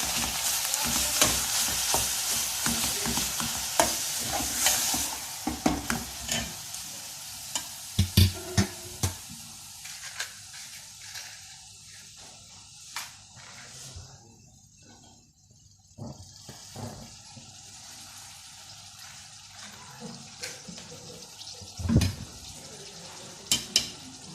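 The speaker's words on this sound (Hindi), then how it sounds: "ये इस प्याज में कीमा डाल देंगे, इसको मिक्स करेंगे।" Minced meat keema with marinade and onions frying and being stirred in a pan, with steady sizzling and repeated spoon scrapes and clatters against the pot, close and continuous throughout.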